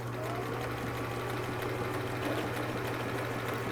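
Sewing machine running steadily while stitching the hem of a fabric turban, a continuous even motor hum with rapid needle rhythm, close and unbroken throughout with no talking.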